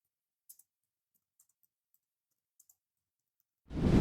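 Several faint, sparse computer mouse clicks, single and doubled taps spaced apart, followed by a sudden louder burst at the end.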